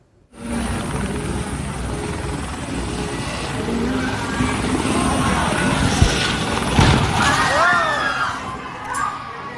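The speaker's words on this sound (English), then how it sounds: "that is a privately owned helicopter crashing as it was trying to land" A privately owned helicopter roars steadily close by as it crashes while trying to land, its rotor and engine noise filling the scene while voices shout faintly in the background.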